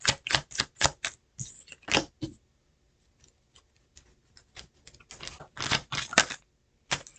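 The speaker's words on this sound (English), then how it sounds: "The deck is shuffled." A tarot card deck being shuffled, heard as a series of sharp, riffling card clicks in uneven bursts, close and fairly loud, with a quiet stretch of soft scattered ticks in the middle before the shuffling picks up again.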